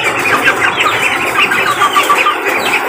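A young chick chirps in rapid, repeated high peeps, close and fairly loud, with a steady patter of heavy rain in the background and no talk.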